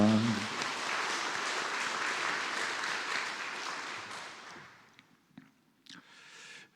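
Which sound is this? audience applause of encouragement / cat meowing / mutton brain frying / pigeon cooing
audience applause of encouragement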